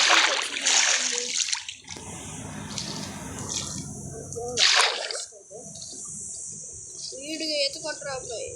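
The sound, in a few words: swimming splashes in water in video game Minecraft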